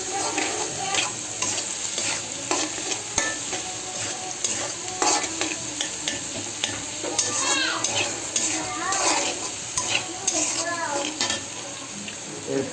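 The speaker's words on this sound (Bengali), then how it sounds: "দেখতেই পারতেছেন ডিমটা ভাজা ভাজা হয়ে যাচ্ছে।" An egg frying in a pan for noodles, a continuous close sizzle and crackle with frequent spatula scrapes and stirring knocks against the pan, steady throughout.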